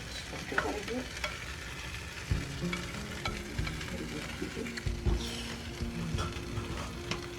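Chicken and beef boti frying in a pan while being stirred and mixed, a steady sizzle under irregular scraping and clanking of a utensil against the pan, close and fairly quiet.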